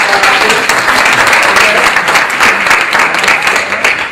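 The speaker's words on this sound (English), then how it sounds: "give him a round of applause" A room of people gives Nicholas a round of applause at a Game Loot Network meeting, dense and loud clapping that holds steady for the whole stretch.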